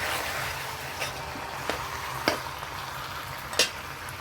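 Chicken sautéing with fried potatoes in a pan, a continuous close sizzle and frying hiss, with a few sharp scrapes and taps of the stirring spoon breaking through.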